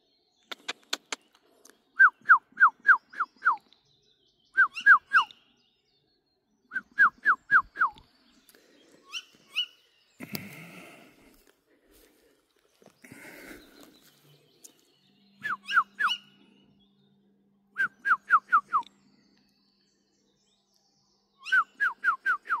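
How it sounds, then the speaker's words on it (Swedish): A small owl calls at night in repeated bursts of quick, whistled hoots, each series of four to five notes spaced by pauses, clear and fairly close, with faint rustling and a brief low murmur between calls. "Det borde finnas två ugglor egentligen."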